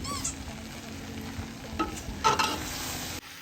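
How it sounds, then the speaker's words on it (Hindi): Okra (bhindi) frying in a pan, a steady close sizzle with metal spoon scrapes and stirring strokes layered over it, ending in a brief quieter moment. "इधर हमारी भिंडी भी बन रही है।"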